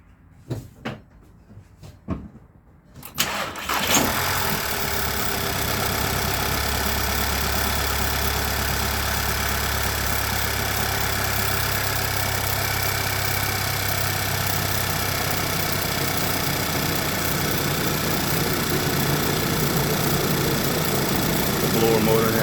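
Volkswagen engine with a misfire, idling: a few clunks and knocks up close, then the motor starts and holds a steady, fairly loud idle throughout.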